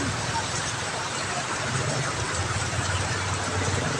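Heavy rain pours in a steady hiss and patter, with a low rumble beneath it, while someone talks over the downpour.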